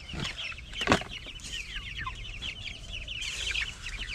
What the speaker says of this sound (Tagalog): ang ating mga sisiw